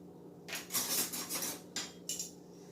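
Cutlery rattling and clinking close by as a bigger spoon is fetched from a drawer, several bright metallic jangles in quick bursts followed by a couple of separate clanks.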